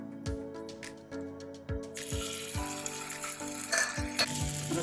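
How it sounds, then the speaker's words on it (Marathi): Stale-chapati cutlets coated in sesame seeds shallow frying in hot oil in a pan, a steady close sizzle that thickens midway, overlaid by repeated percussive beats of background music. "हे तिळामध्ये घोळून हे कटलेट आपल्याला शॅलो फ्राय करून घ्यायचे"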